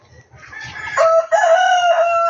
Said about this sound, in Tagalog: Manok ko.